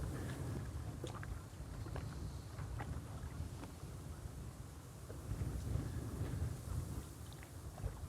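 Strong gusty wind blowing across a lake during winter carp fishing, a dull continuous roar and buffeting with occasional faint knocks, no talking.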